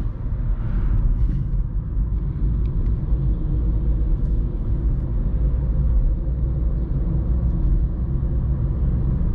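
A car engine rumbles steadily under full throttle in low gear on an uphill climb, a loud, unbroken low drone with no talking.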